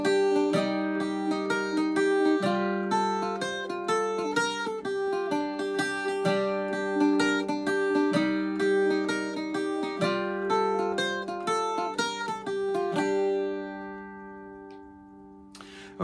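Irish bouzouki playing the A section of the Glasgow Reel up in the high octave, a steady stream of bright plucked notes in reel rhythm, continuous and close, ringing out and fading at the end.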